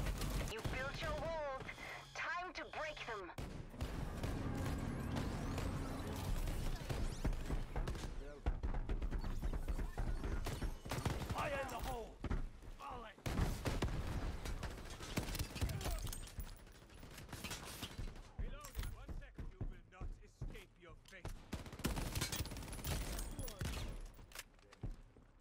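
Rapid automatic gunfire and scattered shots ring out in the online shooter Shatterline, with dense bursts and short pauses running under a player's ongoing voice.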